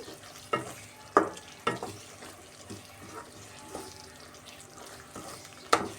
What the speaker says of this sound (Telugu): ఇవి మొత్తం బాగా ఒకసారి మిక్స్ చేసుకొని బాగా ఉడికించుకుందామండి